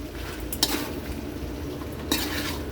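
Carrots and potatoes cooking in a pan of pork menudo, with a steady low simmer and faint sizzle, broken by two brief louder clanks of a utensil stirring against the pan.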